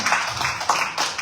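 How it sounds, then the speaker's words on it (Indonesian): A church congregation claps during a sermon, with several distinct bursts of hand claps close by. "Tepuk tangan."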